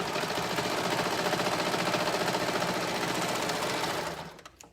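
A sewing machine stitches a side seam in a fast, steady mechanical chatter, close and loud, running continuously for about four seconds before slowing and stopping.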